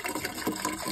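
Sentinel X800 cleaning chemical pours and gushes into a domestic heating system, a short, close burst of liquid splashing and filling with no talk.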